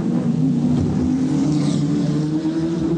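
A 1987 touring car races down Cable Street into a left-hand corner on the Wellington street circuit, its engine droning loud and close with a steady harmonic whine throughout.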